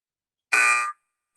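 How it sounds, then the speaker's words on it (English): A single short electronic quiz timer buzzer sounds for about half a second, loud and harsh, with silence before and after. "buzzer is there"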